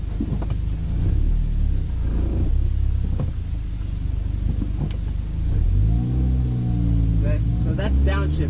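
A manual-transmission car's engine hums and rises and falls in pitch during downshifting, a steady interior drone with intermittent speech over it.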